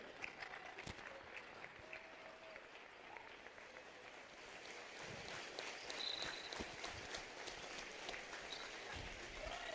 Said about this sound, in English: let's have a final round of applause